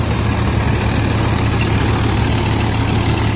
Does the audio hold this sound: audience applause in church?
no